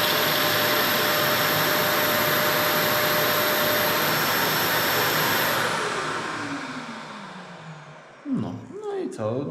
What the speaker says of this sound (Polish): narzędzie wyłączone, odkurzacz jeszcze pracował